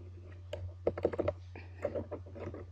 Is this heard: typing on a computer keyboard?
yes